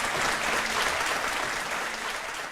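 An audience claps together at an interview event, a dense, sustained roar of many hands that stays loud and close before tapering slightly at the end.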